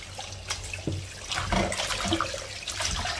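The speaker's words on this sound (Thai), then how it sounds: "ล้างเอาเศษ ใบฝรั่งออกนะคะ แล้วก็ ล้างเกลือออกนะคะ" Water running and splashing in a sink as pig large intestines are rinsed clean of guava leaf bits and salt, with irregular sloshing and handling sounds close by, no talking.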